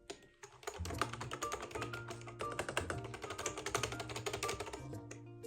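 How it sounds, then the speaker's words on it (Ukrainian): Rapid, busy typing on a YUNZII ACTTO B309 typewriter-style keyboard, sharp clicky keystrokes close by, layered over steady background music. "Розпаковую клавіатуру у формі друкарської машинки."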